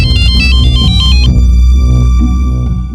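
A phone plays a loud electronic ringtone for an incoming call, a repeating bright melodic pattern that fills the whole stretch with no voices over it.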